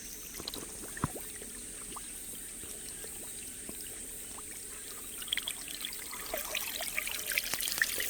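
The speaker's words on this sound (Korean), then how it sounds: "이렇게 폭포가 되는 거죠" A small homemade waterfall runs down a stone tower on a mountainside, fed by a hose and using little water, a faint steady trickle and splash with soft scattered drips throughout, no talk.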